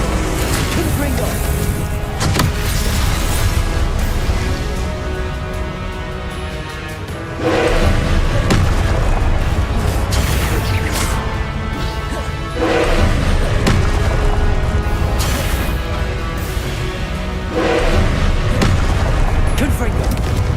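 Confringo blasting spells in Hogwarts Legacy: a loud, dense barrage of booming explosions and crashing impacts, surging in waves over the whole stretch with battle noise and voices mixed in.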